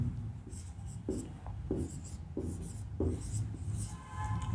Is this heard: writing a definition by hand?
yes